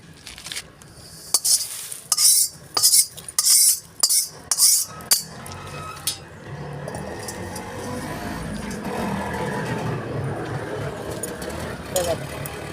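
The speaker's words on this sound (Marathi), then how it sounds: "कांदा काढून घेते मी." A spoon scrapes and scoops fried onion out of a pan while cooking kala masala, with a run of rhythmic clattering metal scrapes that then give way to a steady sizzling, frying hiss.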